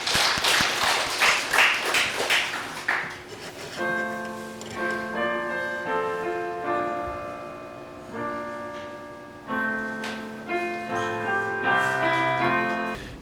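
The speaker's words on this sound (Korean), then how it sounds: "영광의 박수" A church congregation claps together for about three seconds of dense, even applause, which then gives way to a gentle melodic instrumental passage.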